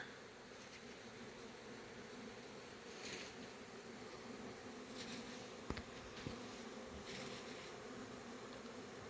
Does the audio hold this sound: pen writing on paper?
no